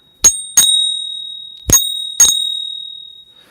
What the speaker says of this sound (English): This right here is the pocket pinger.